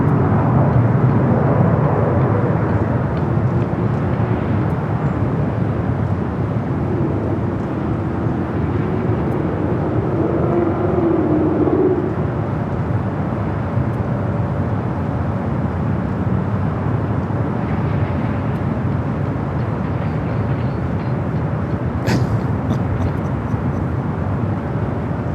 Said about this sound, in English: Heading to the south side, we'll take off on the 25 right.